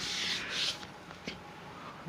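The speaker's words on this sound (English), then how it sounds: "I'm still sanding this thing down." Rough sanding strokes rubbing body filler on a wrecked BMW 325i E90, a couple of longer scraping passes followed by quieter, lighter rubbing.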